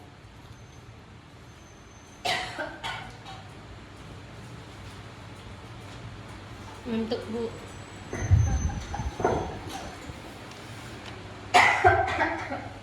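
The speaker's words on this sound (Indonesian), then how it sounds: "Maaf ya, Ibu batuk." A female teacher in a classroom coughs in three separate bouts, sharp and close, with a few quiet spoken Indonesian words and faint background hum between them.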